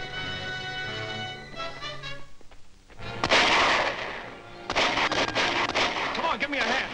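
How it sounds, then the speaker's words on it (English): Machine guns open fire in a 1941 action film, with rapid crackling bursts close and loud that break in after tonal sound and voices, pause briefly, then resume steadily. "Man the machine guns."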